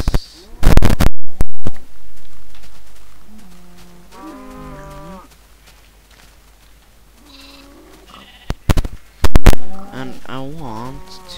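A sheep due for shearing bleats several times in wavering calls, broken up by a few sharp, loud bursts of noise near the start and again toward the end.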